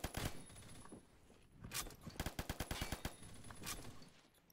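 M60 light machine gun firing in the Phantom Forces shooter game, with a rapid run of sharp, evenly spaced shots in the middle, shorter bursts around it and loud, close reports.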